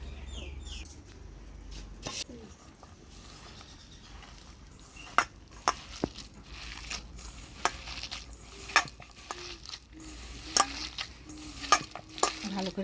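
Chopped taro being mixed by hand with rice flour, turmeric, onion, chilli and salt in a bowl, giving soft rustling and squishing with scattered sharp clicks and taps against the bowl, close and fairly quiet.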